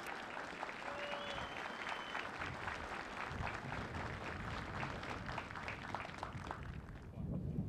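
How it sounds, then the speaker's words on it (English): A large audience at a U.S. Air Force military training instructor graduation applauds continuously, a dense roar of clapping that holds for several seconds before tapering slightly at the end. "how about a round of applause for our newest military training instructors?"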